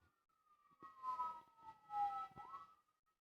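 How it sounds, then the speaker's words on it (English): Emergency vehicle sirens pass outside, a single faint wailing tone sliding down and back up in pitch, heard at a distance with some muffled background noise. "I'm not going to talk over the sirens."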